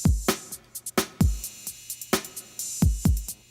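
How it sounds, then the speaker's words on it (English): Layered drum pattern sitting under a beat, with heavy kick-like hits roughly every second and lighter percussive taps between them, loud and punchy with no voices. "we went ahead and added a little drummer track underneath just to kind of add a little bit extra texture"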